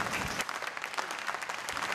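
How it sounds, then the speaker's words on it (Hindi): Sustained applause fills a large hall at a state police awards event as a guest is called to the stage, a thick crowd clapping at an even level throughout. "मैं चाहूँगी ज़ोरदार तालियों के साथ इनका स्वागत किया जाए"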